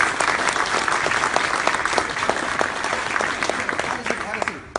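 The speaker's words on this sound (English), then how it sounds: "Okay, round of applause." Audience applause at a business pitch session, steady clapping from a crowd filling the space, loud and close, with scattered sharper claps standing out through the whole stretch.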